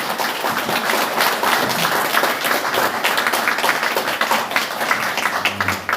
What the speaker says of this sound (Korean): 조원진 대표님께 박수 부탁드리겠습니다